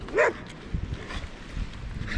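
A single yelping dog bark rings out near the start on a beach in Jamaica, followed by quieter scuffling, thumps and faint movement noise.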